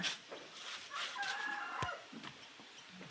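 A rooster crows once in the morning at a home, with a bright, drawn-out call rising over faint background noise and a brief sharp knock near the end.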